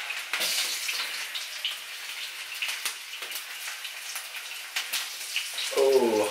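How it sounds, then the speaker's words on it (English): Potatoes dropped into hot oil in a home kitchen, giving a crackling, spattering sizzle with sharp pops throughout, followed near the end by a brief voice. "Oh, hot oil went everywhere."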